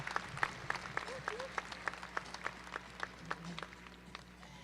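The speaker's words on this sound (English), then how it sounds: "would you please give them a nice round of applause" An audience at a draft horse show applauds junior drivers in the arena, light scattered clapping with distinct individual claps over a steady background hum of the grounds, while people talk faintly throughout.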